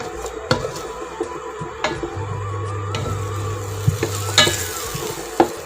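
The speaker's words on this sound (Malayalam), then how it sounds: "ഞാൻ ഇടയ്ക്കിടയ്ക്കൊന്ന് ഇളക്കി കൊടുക്കുന്നുണ്ട്." Aviyal vegetables stirred in a pan to keep them from sticking: close, irregular scraping and knocking strokes over a soft background sizzle, with a faint low hum in the middle; no talking.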